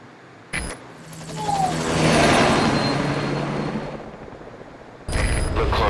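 A helicopter in the stealth game Metal Gear Solid V: The Phantom Pain, a steady whirring engine and rotor roar that swells louder and then eases off, with a voice briefly over it.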